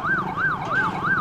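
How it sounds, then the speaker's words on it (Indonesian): An ambulance siren wails in a fast, regular rising-and-falling cycle, loud and fairly near, with a low road rumble beneath it and no talking. "menunjukkan 1 unit mobil ambulans dari Bidoges Polda NTB untuk segera mengevakuasi korban"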